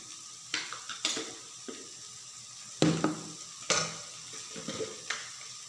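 Ginger, chilli powder and turmeric being sautéed for a dal roast, with sharp intermittent scrapes and clinks of a spoon against the pan over a faint sizzle, near and without talk.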